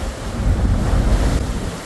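Ocean waves are heard from the cabin of a passenger ship sailing to Havelock Island, a loud continuous wash of surf mixed with heavy wind rumbling against the microphone, and no voices.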